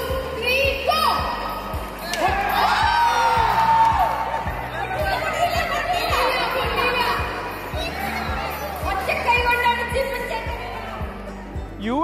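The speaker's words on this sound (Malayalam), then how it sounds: "ഉറിയടി കണ്ട് ജനക്കൂട്ടം ആർത്തു വിളിച്ചു" A large crowd cheers and whoops at an Onam uriyadi pot-breaking game during a Dubai Onam celebration, with steady pounding drums beneath and loud voices throughout.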